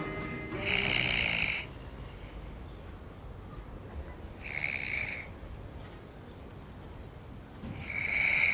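A sleeping man snores loudly in three long rasping breaths spaced several seconds apart, each a harsh buzzing rattle over a quiet indoor room hush.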